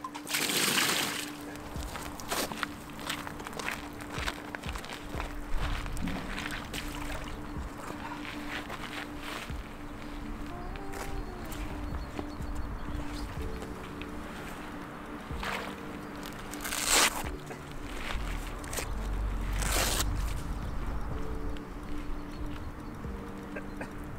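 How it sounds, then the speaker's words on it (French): A carp goes back into the water after a French fishing session, with soft sloshing and occasional splashes under a steady outdoor background and a brief low hum, no speech. "Allez, on va te remettre à l'eau, ma cocotte."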